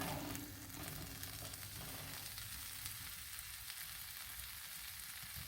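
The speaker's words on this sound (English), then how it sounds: "We'll fry those up for a couple minutes" Canned mushrooms fry in a pan inside a hot tent during a rainstorm, giving a steady, close sizzle and crackle that holds evenly throughout with no talking.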